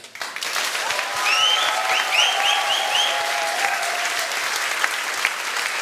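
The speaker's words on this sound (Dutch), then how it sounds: "dat jullie één keer een hartelijk applaus geven aan, aan de band" Sustained applause from a studio talk show audience for a band, steady and loud, with some cheering and whistles rising over the clapping.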